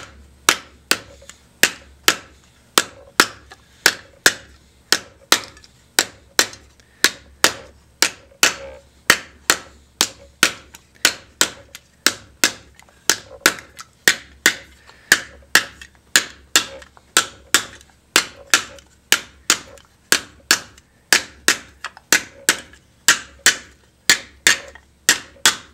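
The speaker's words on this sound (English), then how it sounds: "I just move. The disc along as I am hammering to that side of the depression." Steady hammer blows ring out on a copper disc being sunk into a vessel, dozens of sharp metallic strikes in an even, fast rhythm, close and loud with no talking.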